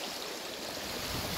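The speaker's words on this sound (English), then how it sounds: "We're just by the creek." Creek water flows in a steady broadband rush outdoors, a brief continuous wash of moderate loudness with no voices.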